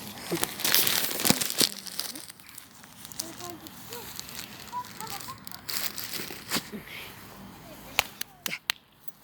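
Crinkling plastic rustles and crackles on and off amid sharp snaps and movement, with people talking in the background.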